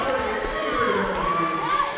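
Crowd in school gymnasium stands cheering as field hockey team walks in after their game, a steady, dense roar of voices and shouts with no break throughout.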